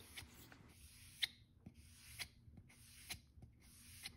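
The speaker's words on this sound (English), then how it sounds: "I pretty much just squirt some shellac on a pad and then cover the surface using circular motions" A pad loaded with shellac rubs over a wooden surface in circular motions, making soft rhythmic swishing strokes about once a second, close and quiet, with no talking.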